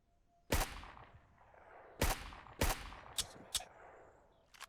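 Gunshots fired at a zombie in the Surroundead video game, five or six sharp, loud reports spaced irregularly over a few seconds, each with a short echoing tail, no talking.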